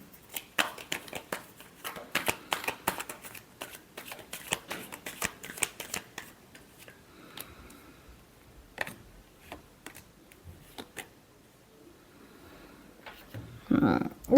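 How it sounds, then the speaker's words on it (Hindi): A deck of tarot cards being shuffled up close, with rapid riffling and snapping bursts in quick runs that slow into sparse soft taps and slides, and a brief rustle at the end. "Last shuffle."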